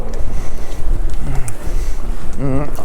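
Strong headwind roars across the microphone during a flat road ride by bicycle, loud buffeting gusts that fill the short stretch, with a short voiced sound near the end.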